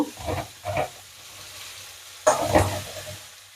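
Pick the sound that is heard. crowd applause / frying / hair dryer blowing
frying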